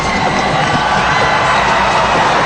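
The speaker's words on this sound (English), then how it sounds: "the crowd starting to react here" A basketball arena crowd at a Ginebra versus Alaska game in 2010 cheers and roars, a dense, loud wash of shouting voices.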